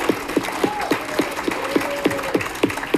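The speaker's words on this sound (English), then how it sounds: "so can we clap it up for him?" An audience at a community gathering applauds in a steady, dense wash of clapping, with a thin whistle drifting above the crowd.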